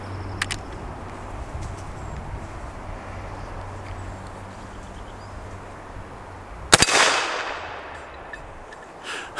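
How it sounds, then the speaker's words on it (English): A single loud, close gunshot from a Marlin 1895 SBL lever-action rifle chambered in 45-70 bursts out after a quiet outdoor stretch and rolls off in a long echoing decay. "I'm shooting my new Marlin model 1895 SBL, chambered in 45-70"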